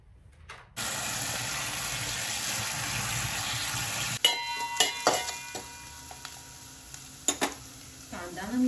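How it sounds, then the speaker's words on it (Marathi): Onion sautéing in a pan for a pasta dish: a steady, loud sizzle fills the first few seconds, then gives way to intermittent stirring scrapes and clicks over a softer fry. "कांदा ना मी चांगला परतून घेतला."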